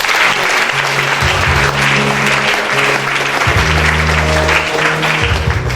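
A church congregation claps steadily and loudly at a French-language worship service, with dense, continuous applause filling the whole stretch and low sustained tones beneath it.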